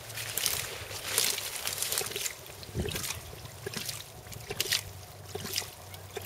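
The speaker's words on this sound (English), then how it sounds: "Here's the second ram pump." Hydraulic ram pump running outdoors, its water sloshing and trickling in irregular surges with bursts of splashing, fairly faint and close.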